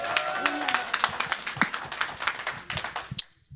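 A small audience claps for a political leader, scattered uneven hand claps close by, some overlapping, ending in a sharp final clap before quiet.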